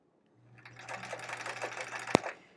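Domestic sewing machine stitching through a quilt block, a fast steady mechanical whir with rapid needle ticking that starts up, runs for about two seconds, then ends with a sharp click, close and clear with no talking.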